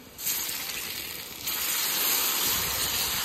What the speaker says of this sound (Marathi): आता इथे आपण ही फोडणी भाजीमध्ये टाकायची